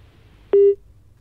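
A single short, loud, steady electronic telephone beep right after a call is cut off, rising out of near silence with a low background hum.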